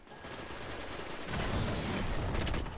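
Rapid gunfire in a shooter game on the Saladins map in the Rusted Lands, a dense fusillade of overlapping shots that grows louder and busier midway, steady and unbroken with no talk.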